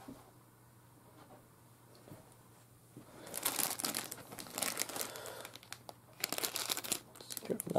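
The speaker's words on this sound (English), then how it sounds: "I'm just gonna take this out of the package." Plastic packaging of a tornadoAlert personal severe weather tracker crinkles and tears in loud bursts as it is unwrapped, after a quieter stretch of low room noise.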